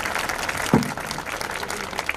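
Audience clapping at a groundbreaking ceremony for a municipal nursery school in Merkezefendi, Denizli, a steady wash of applause from a crowd lasting a couple of seconds with no talk over it.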